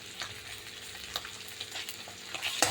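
Ginger, garlic and chili spice paste frying in a pan for fish curry, stirred with steady sizzling and occasional sharp scrapes of the spoon against the pan, close and fairly quiet.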